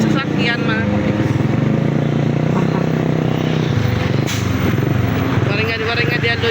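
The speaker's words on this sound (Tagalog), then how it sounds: "Rush hour. Madaming sasakyan," Busy rush-hour street traffic near Catmon Plaza, with many vehicles including motorcycles and trucks rumbling past close by, engines droning loudly and a brief hiss of brakes partway through.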